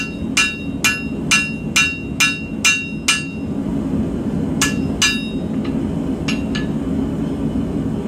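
Steel knife blade being forged at the choil with a hammer: seven quick ringing blows in an even rhythm, a pause, then a few more scattered strikes, close and loud over a steady low background roar.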